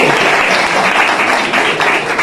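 Dense audience applause fills a hall, a loud continuous roar of many hands clapping at once, steady throughout with no voices standing out.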